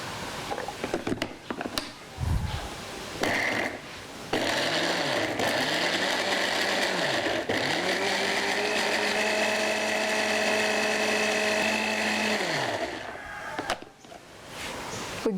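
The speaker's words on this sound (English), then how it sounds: "So blend it until smooth" A kitchen blender whirs as it purees ingredients with vegetable oil into a smooth paste, its motor whining steadily for about ten seconds after a few short clunks, then spinning down.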